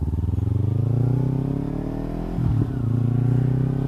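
A Kawasaki Ninja 300 rides along with a close, loud twin engine hum that rises and falls in pitch through gentle throttle changes, a brief dip near the middle, no voices.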